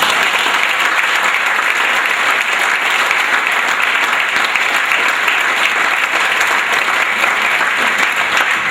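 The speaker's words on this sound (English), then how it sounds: "And one last good round of applause for you people." At a school sports banquet a crowd gives loud, sustained applause, a thick and constant wash of clapping from many hands that holds steady from start to finish.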